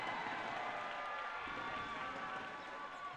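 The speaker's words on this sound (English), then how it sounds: "You can hear lots of cheering coming from the stands now." Spectators cheer in the stands at the women's foam final of the Dodgeball World Championships, Canada vs Hong Kong, a steady, distant crowd roar with faint thuds from the court beneath it.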